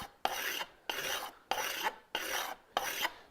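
A file rasps along a blade edge to sharpen it, five even back-and-forth strokes with brief pauses between them, close and clear, with no talk.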